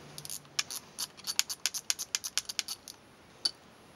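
A 13 mm wrench works loose the mounting bolts on a Warn M8000 winch, giving a quick run of sharp metallic clicks and ratcheting ticks, close by and fairly quiet, with one last click after a short pause.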